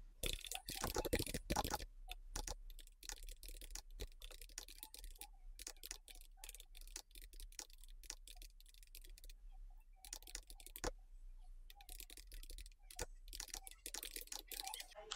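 Quiet, rapid keystrokes on a computer keyboard while code is written, irregular bursts of soft clicks with brief pauses and occasional heavier taps, close and faint over a low background hum.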